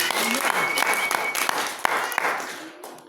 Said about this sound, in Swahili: Pia Bwana Yesu makofi